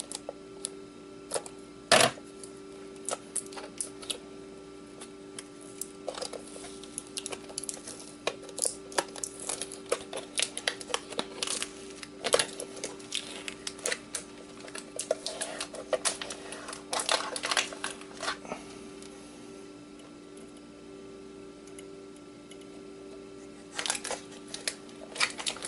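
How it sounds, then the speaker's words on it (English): Screws being backed out of an old Xbox hard drive, a long run of small clicks, ticks and ratcheting scrapes close up, with irregular bursts of metallic fiddling and no talk. "a bunch of screws that we're going to unscrew"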